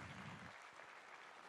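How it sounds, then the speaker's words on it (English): Students at a teachers' association municipal candidate forum applaud in a short burst of broadband clapping that thins out after the first half-second, leaving a quieter crowd wash. "give yourselves a hand of applause"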